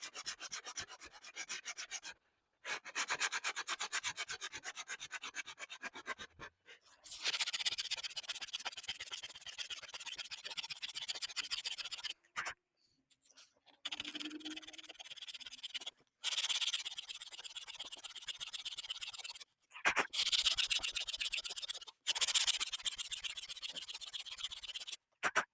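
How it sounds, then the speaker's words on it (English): Sandpaper rubs in repeated bursts over the top edge of a gourd bowl, scratchy strokes broken by short pauses, close and moderately loud with no talk. "I'm just going to go back and sand over the top of it"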